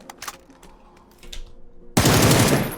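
A rifle fires in the video game PUBG, with a few scattered shots and then a dense, loud burst of automatic fire near the end.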